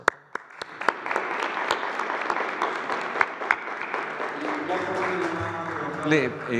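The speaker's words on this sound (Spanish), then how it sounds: "Un aplauso." Audience applause fills a press conference hall, starting with a few sharp individual claps that swell into sustained, fairly close clapping, with a voice speaking over the clapping near the end.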